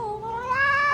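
A cat gives one short meow that rises in pitch, close and clear, with no voices over it.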